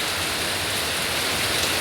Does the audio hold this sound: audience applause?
no